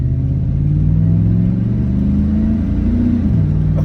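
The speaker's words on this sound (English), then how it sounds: "I'm gonna give this dude some burst so I give it some gas." Engine of a 2002 Chevrolet Silverado with a misfire being fixed, pulling steadily under gas while driving, a loud continuous low rumble rising in pitch and then dropping back as it shifts, heard from inside the cab without talk.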